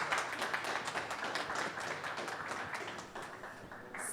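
An audience applauds, dense clapping that stays steady before thinning slightly toward the end.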